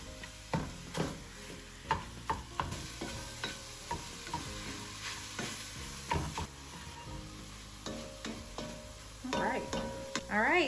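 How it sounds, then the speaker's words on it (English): Ground sausage frying in a hot pot on the stove, with repeated scraping and stirring clicks over a steady sizzle, fairly close; a brief higher sizzle near the end. "The pan is already heated up, so we're gonna put our ground sausage in."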